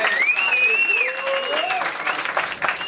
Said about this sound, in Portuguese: Salva de palmas, moleque.